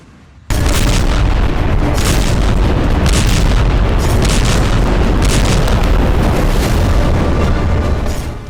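Heavy explosions from RPG strikes on tanks during urban combat in Gaza, a sudden loud blast followed by sustained roaring rumble with repeated booming bursts throughout, close and dense, with no voices.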